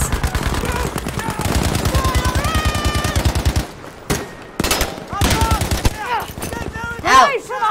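Rapid automatic gunfire in Battlefield 5 rattles in fast bursts under a talking player's voice, then breaks into sparser shots and scattered game sounds.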